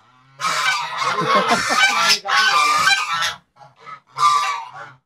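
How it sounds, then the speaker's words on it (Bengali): Chinese geese give loud, close, repeated honks in long harsh bursts, with a few shorter calls after a brief pause; no one speaks. "এগুলো চীনা হাঁস না এগুলো রাজা হাঁস"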